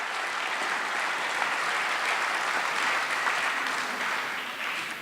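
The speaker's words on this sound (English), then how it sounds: "So another big round of applause for our musicians," A dense, steady wave of applause from an evening event audience rewards two musicians, full and even for several seconds before tapering slightly at the end.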